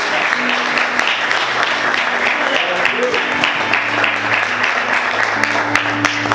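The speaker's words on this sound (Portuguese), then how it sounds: "Você pode aplaudir Jesus bem forte?" Church congregation applauding loudly, a dense steady wash of clapping filling the whole stretch, with music or voices humming faintly underneath.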